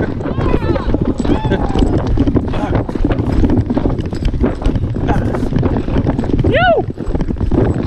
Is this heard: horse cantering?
yes